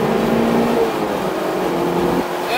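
A Mazda NC Miata race car accelerating hard at a grand prix revival event, its engine note loud and close, rising as it revs, with a steady roar and gear-change shifts in pitch.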